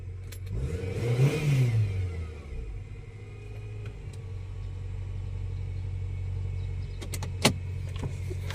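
A car engine turning over and catching after being started in park, rising to a brief rev before settling into a steady low idle rumble, with a small click near the end.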